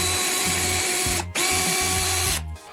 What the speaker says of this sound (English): Drill a hole through the center of the cut part.